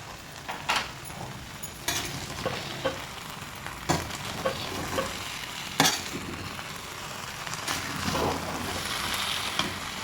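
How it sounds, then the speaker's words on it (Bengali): Spices and a little biryani masala get stirred in a pan over heat: a soft continuous sizzle broken by sharp spoon-on-pan scrapes and knocks at irregular intervals, close and fairly quiet, no voices. "খুব ভালো করে মিক্স করে নেবো মশলা"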